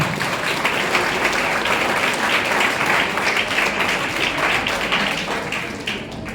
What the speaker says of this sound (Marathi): या टाळ्या वाजवण्यासारखं काही नाही